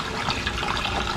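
Inlet water pours steadily into a koi pond filter barrel on a DIY three-barrel filter system, a close, continuous splashing rush with no talking.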